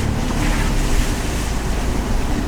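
Strong wind buffets the microphone in a steady, loud rushing roar with low rumbling gusts, and no voices are heard.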